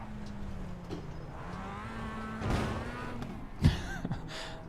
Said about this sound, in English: Still kind of obnoxiously loud, but it's a race car, so it's supposed to be loud.